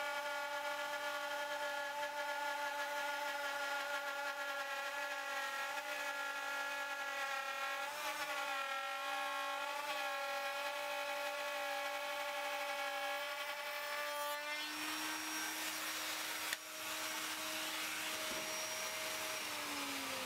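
A router cutting a dado in a long wooden cabinet piece, a steady high whine with strong harmonics running continuously, then shifting pitch and tailing off toward the end, close and loud with no talk.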